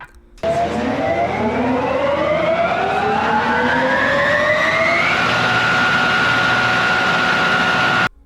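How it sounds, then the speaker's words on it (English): Booster wheels of the All American Triple Loop roller coaster at Indiana Beach spin up at the station with a very loud, rising mechanical whine that climbs steadily, then holds as a sustained high tone before cutting off abruptly. "Right before the ride starts, there's this whole sequence where I guess the booster wheels are starting up, and it makes like the loudest noise on earth."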